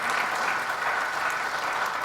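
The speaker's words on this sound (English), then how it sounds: "let's have a huge round of applause for Mr." Audience applause at a literary festival session, a brief continuous burst of many people clapping, even and moderately distant, with no talking over it.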